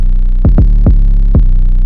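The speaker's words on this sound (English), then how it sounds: "I just pulled this up from the EXıLE Kit 808 bank." An 808 bass sample from the EXıLE Kit 808 bank, used for trap drums: a loud, deep, punchy booming tone with four sharp pitch-dropping hits over a sustained low rumble, heard alone.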